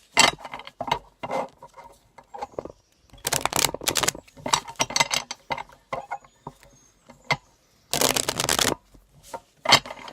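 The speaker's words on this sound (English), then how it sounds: "I'm going to shuffle your cards" Cards are shuffled in several crisp, riffling bursts separated by short pauses and lighter handling sounds, close by with no talking.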